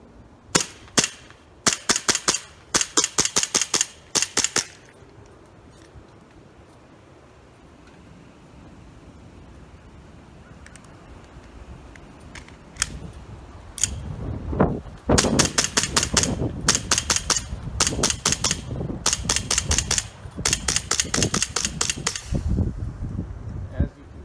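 An Elite Force airsoft 1911 CO2 pistol shoots .25-gram BBs in rapid bursts of sharp snapping shots, several strings at the start, then a long steady run later over a background hum and faint talk, until the gas runs out.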